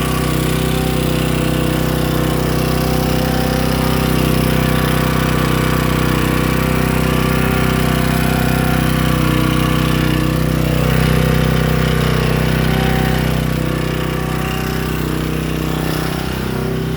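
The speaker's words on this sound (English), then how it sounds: "That generator is a little loud, but let's see." A Predator 1800-watt generator from Harbor Freight runs steadily and loudly at close range, its constant engine drone holding even from start to finish with no voices.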